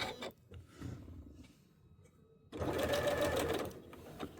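A sewing machine stitches a quarter-inch seam allowance, a few short whirring bursts at first, then a louder, faster continuous run after a pause, heard alone and close.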